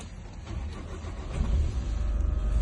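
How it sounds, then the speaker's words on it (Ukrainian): A 2015 Audi A3 with a 2.0-litre diesel engine turns over from a push-button start, settling into a low, steady rumble that swells slightly as it idles close by, with no talking. "запуск двигуна з кнопки"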